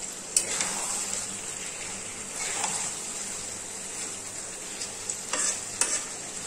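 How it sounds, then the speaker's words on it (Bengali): A cauliflower and egg gravy sizzles steadily in a pan while a spoon scrapes and stirs it, with sharper scraping strokes near the start and several more toward the end, close and fairly loud, with no voices. "একসাথে এটাকে ভালো করে কষাতে হবে।"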